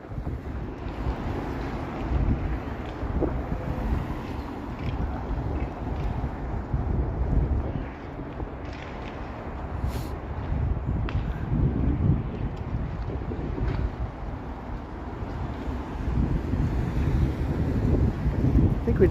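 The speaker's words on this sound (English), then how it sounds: "We just had a weird weather moment there. It got really windy." Strong gusts of wind roar and buffet the microphone steadily throughout on a Toronto street on a Monday evening, with a low rumbling blustery wash and no talking.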